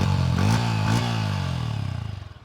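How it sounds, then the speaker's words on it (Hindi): A Yamaha R15M motorcycle revs through its exhaust, a loud, close engine note that rises in two quick throttle blips before settling and fading as the revs drop, with no talking over it. "एक बार मैं आपको एग्जॉस्ट नोट भी सुना देता हूँ कि इसकी कैसी है"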